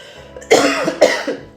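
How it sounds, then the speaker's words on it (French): A few close, harsh coughs in quick succession, two strong ones followed by a softer one, with no talking. "vous savez que je suis malade, donc je vais tousser"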